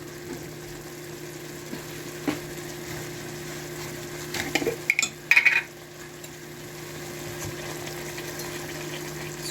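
Shrimp sizzle softly in a pan with honey garlic and sweet and sour sauce, a steady low frying hiss with a few brief louder crackles and clinks near the middle.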